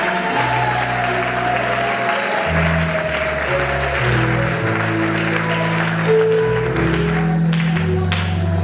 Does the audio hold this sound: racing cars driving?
no